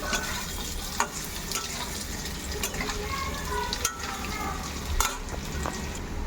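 Ginger and chili paste fries in a pan, a steady close sizzle broken by occasional sharp scrapes and clicks of stirring, with no voices.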